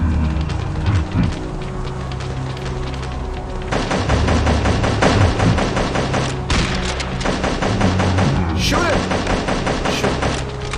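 Dense, continuous video game gunfire from the horror game Chromosome Evil, rapid machine-gun bursts and shots rattling loud and close with almost no pause, and players' voices faint beneath it.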